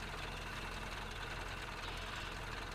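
A truck engine idles steadily in the Spintires Mudrunner off-road game, a dense continuous rumble held at an even level throughout, with no voices.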